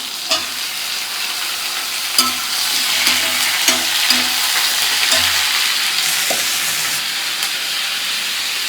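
Garlic and tomato sautéing in a pan for paneer butter masala, with a continuous close sizzle and hiss broken by several knocks and scrapes of a stirring spoon.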